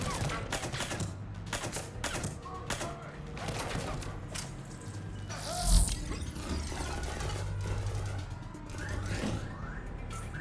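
Suppressed M11 handgun shots in the video game Mass Effect 3, a string of sharp cracks and rapid bursts amid other combat noise, fairly loud, with a voice speaking over parts of it.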